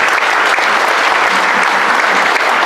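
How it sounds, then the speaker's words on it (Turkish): Loud, dense applause from an audience at a company's 40th anniversary celebration in Izmir, continuous and even as the speaker is welcomed to the podium. "Alkışlarınızla."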